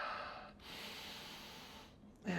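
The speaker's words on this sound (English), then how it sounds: "Breathing in mountain pose." A person breathing during a yoga mountain pose in a fitness routine, a long, close, airy exhale that fades out and then a sharp new intake of breath. No one speaks.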